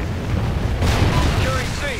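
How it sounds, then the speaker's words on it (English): A Trinity rocket strike in the video game Call of Duty Ghosts lands with a sudden broadband blast and rumbling roar partway through, with a voice heard before and during the impact. "Friendly Trinity rocket inbound."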